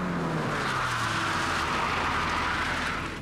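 A car brakes hard on a driving course, moving from straight-line to turn braking, with loud, continuous tire and road noise and a steady squeal-like tone throughout.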